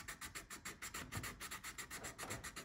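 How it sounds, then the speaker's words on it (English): A wooden mallard drake decoy bill is sanded by hand with 120-grit sandpaper, giving quick, rhythmic back-and-forth rasping strokes, faint and close, with no talking. "I'll do this 120 and then we'll keep moving to finer and finer sandpaper"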